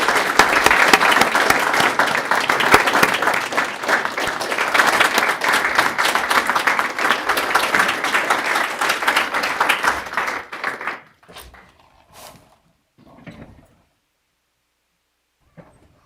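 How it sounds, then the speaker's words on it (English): Audience applause at a board of education meeting, steady crowd clapping lasting about ten seconds, then stopping abruptly, followed by a few faint taps and near silence. "Let's give her a round of applause"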